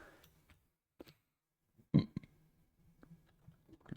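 One short, deep burp sounds in a quiet room, followed by faint clicks and small noises.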